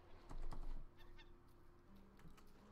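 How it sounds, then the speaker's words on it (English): Squawking parrot in the survival game Raft: a few short, harsh honk-like calls up close over low game ambience, then quieter faint chirps trailing off. "Jappa, there's a parrot."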